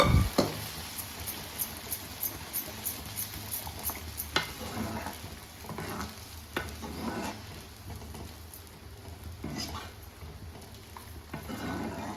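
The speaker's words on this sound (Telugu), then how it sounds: "బాగా ఫ్రై చేసుకున్న తర్వాత ఉడికించి పెట్టుకున్న పప్పుని తాలింపులో యాడ్ చేసుకోవాలి." Steady sizzling and frying as cooked dal is added to a tempering, with intermittent scraping and stirring clatter, close by, no talking.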